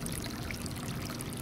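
A thin stream of water trickles steadily from a solar-powered hot water heater running on a 50-watt panel, a continuous soft pouring hiss with no pause over the short moment.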